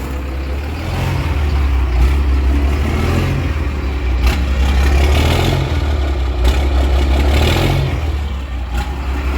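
A dually pickup truck's engine runs steadily nearby, a continuous low rumble with slight swells under load, no talking.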